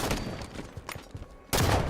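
Video game gunfire in a firefight with shots coming from two sides: scattered, sharp shots, then a louder, denser burst at the end, with no voices.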